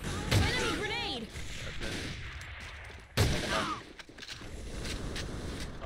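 Grenade blast and gunfire in the shooter A.V.A, sharp thumping impacts and scattered shots near and loud, with a second heavy hit midway, while voices shout over the combat.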